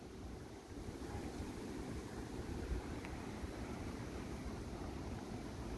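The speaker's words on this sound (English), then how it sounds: "It's very windy today" On a very windy day, gusting wind gives a faint, continuous rushing roar with low buffeting and no voices.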